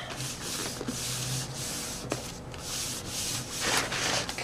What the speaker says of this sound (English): burnish it down really well. Make sure that glue gets squished down.